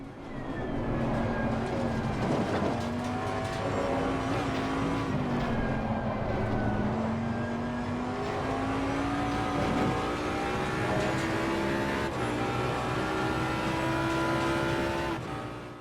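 A GT race car engine lapping the Nurburgring in Assetto Corsa Competizione, a loud continuous drone that climbs steadily in pitch with brief dips at gear changes.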